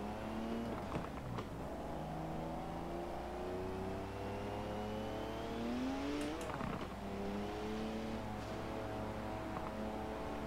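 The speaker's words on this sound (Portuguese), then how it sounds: "Ó, o ronco do carro, ó." A car engine in Forza Horizon 4, played on a G920 wheel with a new gear-shift knob, roars loud and close, its pitch climbing and dropping through gear changes with sharp revving sweeps.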